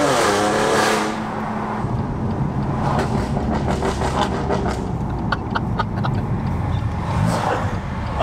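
A BMW M2 fitted with aftermarket parts revs loudly and continuously close by, its engine note rising and falling with a buzzy, rattly edge throughout.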